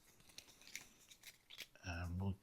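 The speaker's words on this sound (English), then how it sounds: "and now I'm going to shuffle it again." Cards from a solo deck for the board game Leaf are shuffled in a quick run of soft papery riffles and snaps, faint and close. A low hum comes in near the end.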